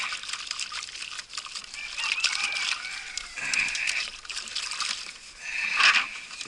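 Someone scrubs a filthy maple sap container with rainwater and soap, making wet swishing, dribbling and sloshing sounds in uneven bursts at close range.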